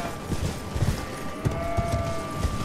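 A horse gallops in the video game Elden Ring, its hooves making soft rhythmic thuds over a steady faint ambient hum.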